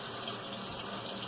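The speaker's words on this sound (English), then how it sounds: "I'm going to go ahead and turn on a little bit of warm water" Warm water runs from a tap in a steady, close, even hiss and splash, with no voices over it.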